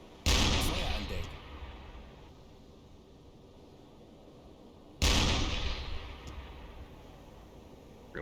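A U-boat deck gun fires twice in the naval game Uboat, each round a loud, close boom followed by a long fading rumble, with about five seconds between the shots.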